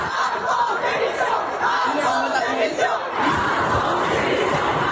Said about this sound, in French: La foule crie en chœur Macron démission